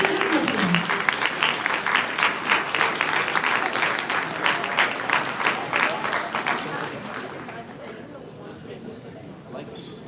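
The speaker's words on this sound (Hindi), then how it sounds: "आपकी भरपूर तालियों में इस्तकबाल कीजिएगा" An audience at the NED Atlanta 2024 alumni convention gives a full round of applause, loud and sustained at first, then slowly tapering off, with a voice audible briefly at the start.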